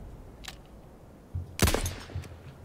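A single sharp gunshot in the World War I shooter Battlefield 1 cracks loudly midway, with a faint earlier report and soft game ambience around it.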